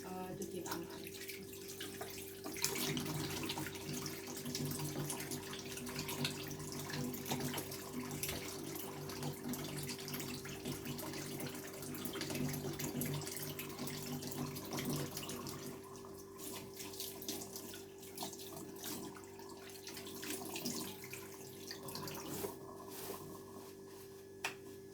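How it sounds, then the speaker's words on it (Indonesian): A tap runs steadily while hands are washed during a clinical physical examination of an adolescent, a faint continuous splashing stream with a constant background hum, lasting the whole stretch. "Kemudian kita lakukan cuci tangan."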